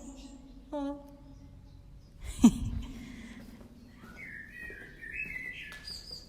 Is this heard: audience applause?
no